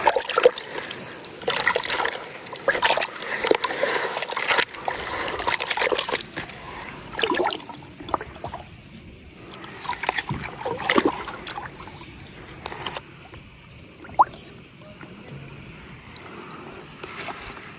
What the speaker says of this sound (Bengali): এই তো আমি বালি ধুয়ে নিছি